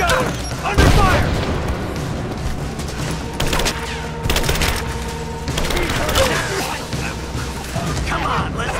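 Gunfire crackles during a firefight in Rise of the Tomb Raider in loud, clustered bursts mixed with splintering impacts, with voices shouting over the action.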